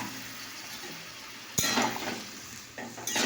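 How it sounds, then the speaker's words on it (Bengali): A vegetarian curry spiced with cumin is sautéed and stirred in a pan, giving a steady soft sizzle with a louder burst of scraping and frying partway through, then a few more clinks and stirs near the end, with no talking. "এটা এখন একটু রান্নাটা কষাবো, অল্প জল দিয়ে চলবে।"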